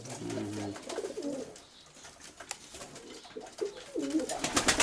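Mykolaiv breed pigeons in a newly built loft give soft, low cooing calls in short bursts, near and moderately loud, with faint rustling and background noise between the coos.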